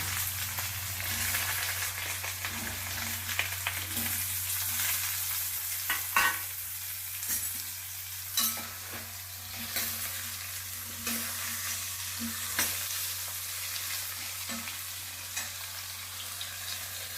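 Chopped onion and ridge gourd fry in a pan for a traditional Karnataka ennegayi dish, giving a steady sizzle with repeated scraping stirs at regular intervals, close and alone with no voices.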